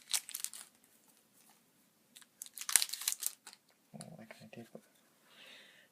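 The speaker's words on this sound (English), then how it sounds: "try to rip this shrink wrap off carefully without completely destroying the deck or scratching any of the cards" Cellophane shrink wrap torn off a Yu-Gi-Oh Legendary Decks 2 card deck, heard as a few crisp, close crinkling rips in short bursts, with a brief low rustle near the end.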